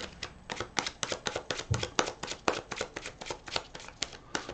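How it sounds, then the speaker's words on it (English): Tarot cards riffled and shuffled in quick, crisp bursts, a steady flutter of snapping card edges close by with no talking. "All right, there we go. Well shuffled."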